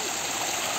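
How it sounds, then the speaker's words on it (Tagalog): Stream water flowing along a mountain trail on Dinagsaan Peak, a steady, close, full rushing wash with no break across the short moment. "Maganda ang daloy ng tubig."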